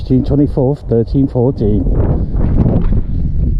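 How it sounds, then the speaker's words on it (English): Someone speaks briefly, then cold, gusty wind buffets the microphone in a loud, rough rumble beside the King Robert the Bruce statue overlooking Stirling. "it's windy and cold"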